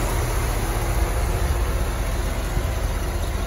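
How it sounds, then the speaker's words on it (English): A 1949 Chevy 3100 shortbed shop truck with a V8 engine runs steadily, a constant broadband engine drone with no knocking and no voices. "Motor sounds good, no knocking noise, no funny noise, anything like that."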